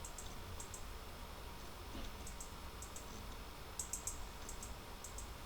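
Stock FL Studio hi-hats playing a quiet pattern at varying velocities, short crisp ticks in uneven clusters and rolls over a faint background hiss.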